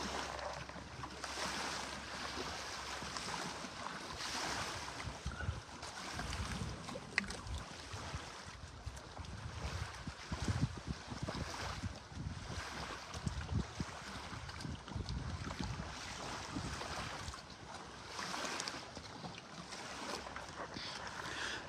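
Water laps against a lakeshore outdoors while wind rushes steadily over the microphone, a continuous, fairly quiet wash of wave sloshes and gusts with no voices.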